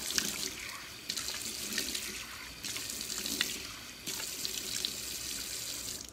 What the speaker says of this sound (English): So you just rinse off with some nice warm water and pat dry.